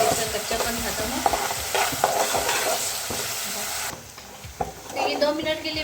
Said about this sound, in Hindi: अदरक लहसुन का पेस्ट भी ऐड कर दूँगी और इसको भी 2 मिनट के लिए इसको मैं अच्छे से जो है ना प्याज के साथ भुनाई इसकी करूँगी